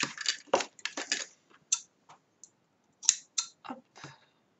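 Scissors cut paper for a handmade mini album, a series of short crisp snips and rustles in irregular bursts, close and fairly quiet in a still room.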